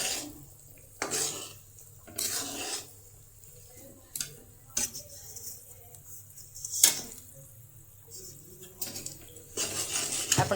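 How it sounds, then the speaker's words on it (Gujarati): Jaggery being stirred in ghee in a pan on a gas stove while making churma ladoo: intermittent metallic scrapes and clanks of a spoon against the pan, each coming in a short burst with quiet gaps between. "આપણે આ રીતે ગોળને હલાવવાનો ઘીમાં નાખીને ગેસ પર રાખીને।"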